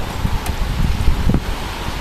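Gusty wind during a thunderstorm in the Clermont-Ferrand and Vichy area, a steady rushing roar with buffeting microphone rumble and a few stronger surges, loud and continuous with no talk.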